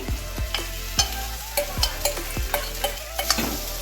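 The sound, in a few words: stir-frying rice with egg in a pan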